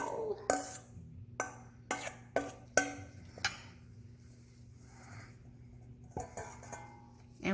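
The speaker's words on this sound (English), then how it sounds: "I am going to scrape this bowl" A utensil scraping a mixing bowl clean, a series of short, close scrapes and clinks in an irregular rhythm with quiet gaps between strokes.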